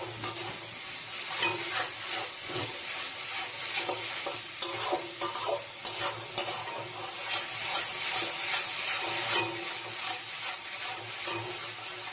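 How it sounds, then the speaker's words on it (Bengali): Egg pulao in a pan gets a splash of hot water and a steady stir, a bright continuous sizzle with rhythmic scraping of the spoon along the pan bottom, close and with no talking. "এবার এটার মধ্যে অল্প একটুখানি গরম জল অ্যাড করে দেবো, যাতে তলা না ধরে যায়।"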